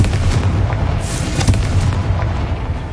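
Blasting-curse explosions from the Hogwarts Legacy video game boom in a dense, rumbling burst, with heavy low-end thuds rolling across the whole stretch.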